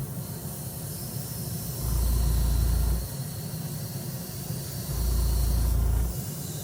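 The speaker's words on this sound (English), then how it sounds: "I'm not spraying heavy." An airbrush hisses in two separate short bursts while spray painting a scale pattern onto a fishing lure, with a steady low hum between the passes.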